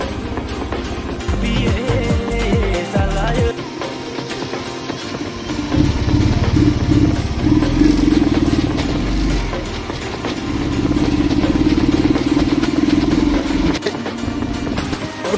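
A Bullet motorcycle engine thumps and drones steadily for a long stretch on an off-road ride, rising and falling with throttle, with rattling and road noise throughout.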